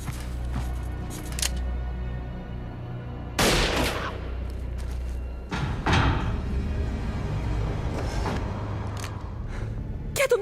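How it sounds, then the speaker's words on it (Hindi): Two sharp, loud gunshot-like blasts ring out a couple of seconds apart during a tense confrontation, each one a sudden crack over a steady low rumble of background noise, with no talking. "क्या तुमने किसी को गोली मारी?"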